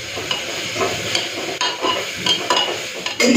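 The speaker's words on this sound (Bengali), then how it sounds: "রসুনটা দিয়ে হালকা একটু ভেজে নিই" Garlic paste fries in hot oil in a pan, a close, fairly loud sizzle punctuated by repeated quick scraping stirs of a spatula.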